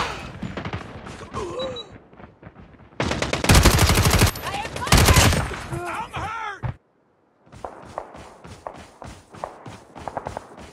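Gunfire in the Call of Duty video game comes in rapid machine-gun bursts and single shots, loud and close. Footsteps and in-game voices fill the gaps, with a brief silence near the end.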